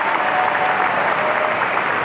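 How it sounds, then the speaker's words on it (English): Graduates at a USC Price 2023 commencement ceremony receive loud, dense, sustained applause from a large crowd, even and unbroken throughout. "Let's give a round of applause to the Executive Master of Health Administration graduates."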